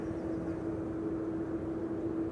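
An airliner departs runway 18 Left at Amsterdam Schiphol, a steady, loud jet roar with a constant droning hum that holds evenly throughout, with no voices.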